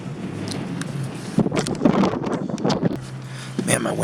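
Gusty wind blowing outdoors on a cold day at Jumbo, Nevada, a steady rushing roar with buffeting microphone thumps throughout, some sharp rustles and handling noises mixed in.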